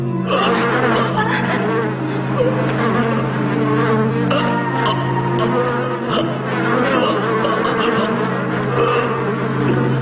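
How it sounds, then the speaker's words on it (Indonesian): A swarm of bees in the 1999 animated series Hunter X Hunter, a loud, dense, continuous buzzing drone that holds steady throughout. "lebah-lebah ini akan segera menyerang siapa saja orang yang berada di dekatku"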